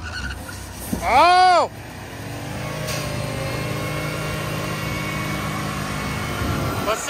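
A 2021 Ford F150 4x4 pickup does a burnout against a diesel tractor on sand. The engine revs sharply up and back down, then a steady, loud roar of spinning tires carries on while a voice briefly exclaims.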